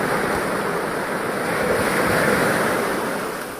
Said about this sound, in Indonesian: Ini di pantai Pulau Nuse.